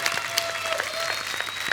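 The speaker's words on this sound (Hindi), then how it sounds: "जोरदार तालियां एक बार चंकी सर और शक्ति सर के लिए।" A studio audience at a comedy talk show claps steadily in a dense burst of applause, close and continuous throughout.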